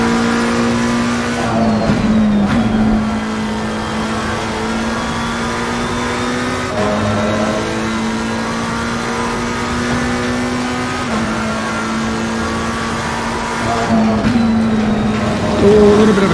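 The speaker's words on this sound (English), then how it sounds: "So Jack Aitken in the Lambo up next" Lamborghini race car in Assetto Corsa Competizione at Silverstone, its engine holding a steady loud drone with harmonic pitch shifts at gear changes and brief lifts near two, seven and fourteen seconds, continuous and close throughout.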